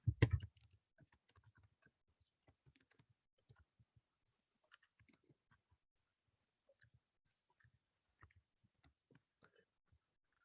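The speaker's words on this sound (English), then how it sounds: "So let me start by typing this." Typing on a computer keyboard to enter simple Python code, heard as quiet, scattered key clicks in an irregular rhythm after a louder knock at the start.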